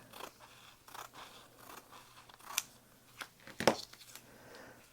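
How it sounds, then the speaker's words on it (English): Fabric scissors snip excess material off bag panels, a series of quiet close cuts with soft swishes and one sharper metallic snip near the end. "now I am going to just take my scissors and trim that excess off so both panels are the same length."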